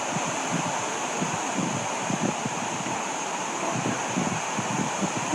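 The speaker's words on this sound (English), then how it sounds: "it did not get this windy until we got here." Wind blowing through Schulte Cemetery, a continuous low rushing buffeting the microphone with gusty rumbling pulses, moderately faint and steady, no voices.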